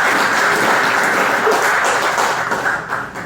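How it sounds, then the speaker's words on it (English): An audience applauds at a county executive committee meeting, steady dense clapping filling the room for several seconds and tapering slightly toward the end. "And let's give Debbie a round of applause."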